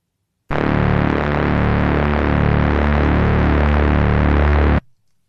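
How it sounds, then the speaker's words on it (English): Synthesizer tone with an LFO sweeping the wave shape for pulse width modulation, a loud sustained buzzy note with a steady throbbing, phasing rhythm, alone, cutting off cleanly near the end. "I could change it to shape, and that will cause the wave shape position to shift, so we could do things such as pulse width modulation."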